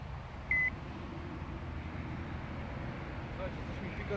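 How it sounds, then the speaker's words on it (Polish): A single short electronic beep sounds once from a bite alarm on a fishing rod at a riverbank, near the start, over a low steady background of wind and ambient noise. "Coś mi pika"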